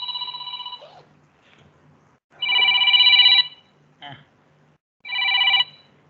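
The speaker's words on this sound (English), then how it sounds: "I think my phone is coming." A phone rings in three loud electronic bursts separated by pauses, with a brief spoken interjection between the rings.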